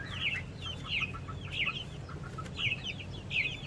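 Chickens on a farm near a newly fenced goat pen clucking in repeated bright bursts, with a rooster among them, a steady rural background underneath and no talking.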